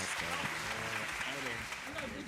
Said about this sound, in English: a round of applause for him, everybody.